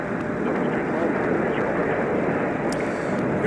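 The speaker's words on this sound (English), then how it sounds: "Here's our next arrival on runway 30 left." A jet airliner arriving on runway 30 left at snowy Minneapolis–St. Paul airport, a steady broad engine roar holding loud throughout the short stretch, with someone talking over it.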